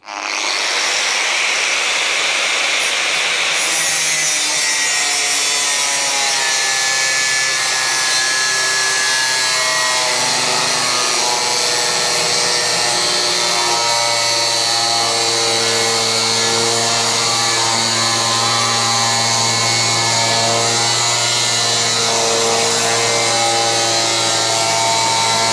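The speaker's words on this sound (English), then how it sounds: "So we'll cut a straight line like this. Let's have a go at freehand, see if we can keep it straight." A power tool saws a long, straight freehand cut through material for a seat base in a BMW project, a loud, steady whine with a slowly shifting pitch held close throughout.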